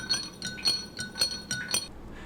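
A spoon stirring food coloring into a glass of water, producing a regular series of bright clinks against the glass, roughly two per second, close and clear with no voices.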